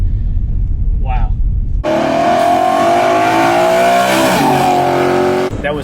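A naturally aspirated BMW V8 fitted with a Pedal Commander throttle controller accelerates hard, a loud rising engine roar that holds for several seconds then cuts off, after a brief voice beforehand.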